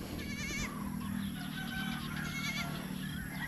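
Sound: goat bleating

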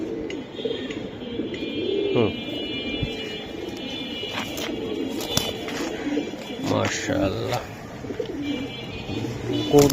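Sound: silver Giribaz pigeons cooing

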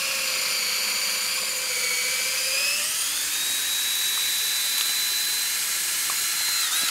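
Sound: drill boring tap hole in tree

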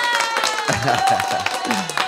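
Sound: studio audience applause

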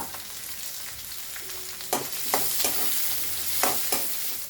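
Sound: stirring semiya with ghee in a pan

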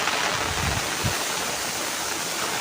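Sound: small waterfall

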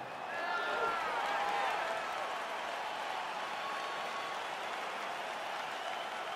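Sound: crowd cheering at UFC fight in video game UFC 4

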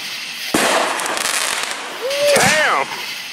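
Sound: fireworks exploding outdoors

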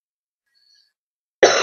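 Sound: cough from a person with a cold

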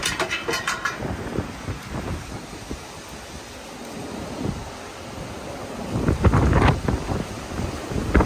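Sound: strong wind gusts during storm

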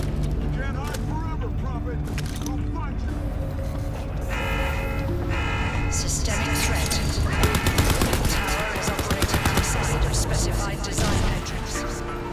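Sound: machine gun firing in the video game Crysis 3

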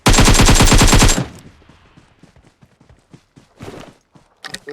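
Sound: gunfire in the video game PUBG Mobile

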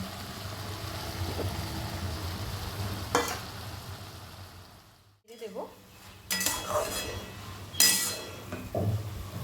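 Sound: fried shrimp added to cooking ash gourd in pan

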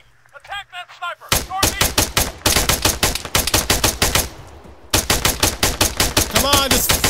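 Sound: gunfire in the video game Arma 3

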